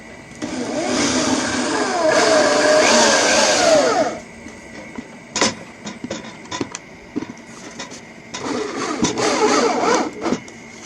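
A power drill drives a screw into a wooden art piece during woodworking, a loud whirring burst of about two seconds followed by clicks and handling knocks, then a second shorter whir, with no talking.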